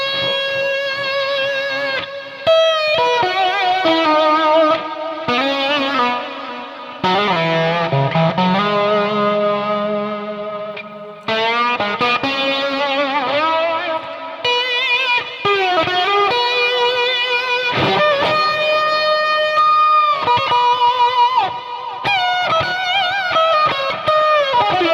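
An electronic instrument carrying heavy added delay and reverb plays a continuous melodic line with sliding pitches, echoing repeats and a dense sustained wash for the whole stretch, loud throughout.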